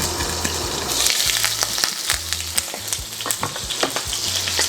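Food browning in oil in a pan for Bicol Express, a busy, crackling sizzle of close, sharp pops over a low, steady hum, with no talk.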